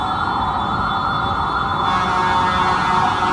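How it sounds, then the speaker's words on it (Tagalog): An ambulance siren wails steadily and loudly with a continuous high tone as it passes in traffic, heard from a motorcycle, with heavy traffic-like rumble underneath, no voices. "Ambulansya."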